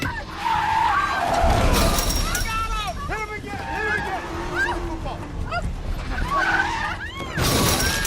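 Tires screech in a car skidding scene from the Iron Man 2 movie, with sharp squeals, crashing impacts and loud effects, while people talk over the action.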